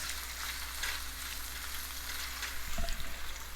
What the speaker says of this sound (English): At this point, I'll add some curry leaves. Just to saute a little bit